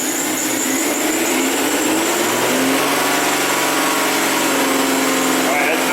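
A Hyundai Sonata engine with a cylinder misfire revs up, a loud, dense mechanical roar rising steadily in pitch from close range with no pauses.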